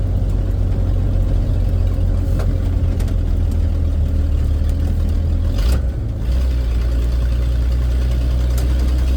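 A 1976 Ford F-250 pickup with a manual transmission, its engine droning loud and steady close by, dipping briefly mid-way as the revs shift during rev matching, then settling back to a strong rumble.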